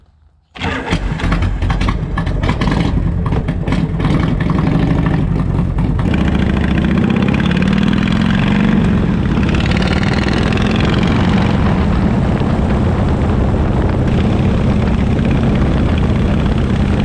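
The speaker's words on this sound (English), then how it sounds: "it sure is nice to have this bike going down the road again" A motorized bike, converted from belt to chain drive, starts with a sudden sputter and then runs loudly and steadily, its engine note rising and falling as it rides down the road.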